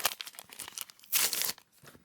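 A Panini trading-card packet is ripped open up close, with crinkly foil tearing in short bursts and one louder rip midway before the sound drops off.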